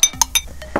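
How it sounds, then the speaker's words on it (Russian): A spoon or fork clinks against a bowl while thick batter of vanilla extract and cold 33% cream is stirred, giving several light, close taps spaced irregularly. "И тоже размешиваем, можно ложкой, можно вилкой."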